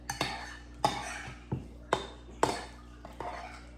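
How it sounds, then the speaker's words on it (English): A spoon strikes the sides of a bowl while stirring strawberries into yogurt, about seven separate clinks with a faint ring, spaced roughly half a second apart, close and clear. "So I'm just gonna stir them up and see kind of how the consistency is."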